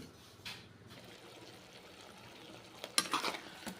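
Ginger is stirred into a crab curry in a pan, giving soft scraping and stirring sounds with a light sizzle, plus a few sharper clatters near the end; no one speaks.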